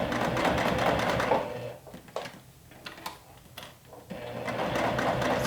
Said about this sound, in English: So we're going to stitch in between those 2 markings that we've made for the handle